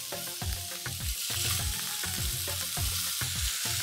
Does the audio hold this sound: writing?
no